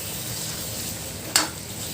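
Tomatoes and onions frying in spices in a pan while being stirred for an Assamese matar paneer, a steady soft sizzle throughout with one brief sharp scrape of the spoon near the end.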